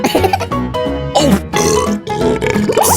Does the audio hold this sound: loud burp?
yes